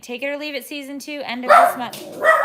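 A pet dog barks and yips repeatedly in a house, close and fairly loud, overlapping with a person talking.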